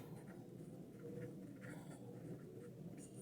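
Chalk or marker writing on a board in a physics class, continuous soft scratchy strokes at close range over a steady background hum, with no speech.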